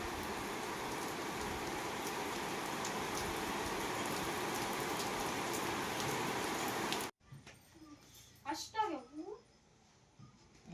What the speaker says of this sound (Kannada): ಜಬರ್ದಸ್ತ್ ಆಗತೈತೆ ಮಳೆ